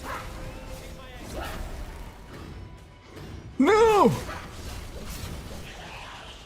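An enemy dog in the Code Vein 2 video game yelps and barks in one sharp, loud burst amid swooshing combat effects, with a player's short shout just before it.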